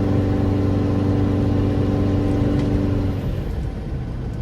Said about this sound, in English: Now the exhaust is a little bit loud when you're accelerating